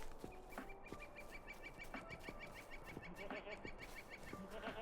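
A flock of goats in the video game The Corsairs of Umbar bleats in quick repeated calls, overlapping and faint, against a low background hum.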